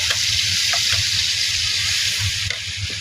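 Soybean oil sizzling and frying in a hot wok, a steady close hiss with light crackling that holds throughout.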